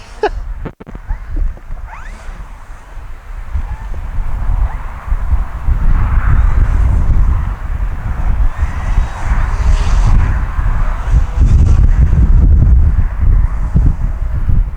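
Strong gusty wind buffets the microphone at an RC flying field, a loud continuous low roar that swells and eases throughout with no talk.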